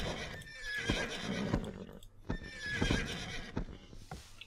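Horses whinny twice in the video game Age of Empires II HD, each loud neigh rising and falling, with clip-clop hoofbeats and battle clatter around them.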